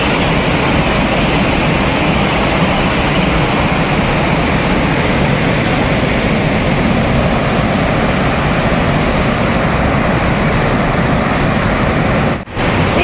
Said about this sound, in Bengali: দাঁড়িয়ে আছি আপার ঘাগরি ফলসের সামনে, পেছনে আমার আপার ঘাগরি ফলস।